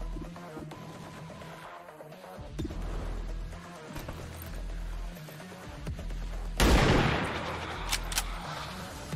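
Gunfire in the video game XCOM 2, War of the Chosen with Long War 2: a sharp shot bursts out amid game sound effects and ambience, followed by a few quieter cracks, with no voices.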